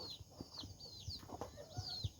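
Chickens cluck softly nearby in short, irregular bursts while eating raw bananas, with a few higher calls mixed in, fairly quiet overall.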